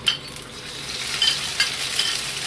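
Garlic and green onion sizzle in a generous amount of oil while being stirred, for a home-style pork jajangmyeon. The frying hiss is steady and close, with a few faint scrapes of a utensil and no voices.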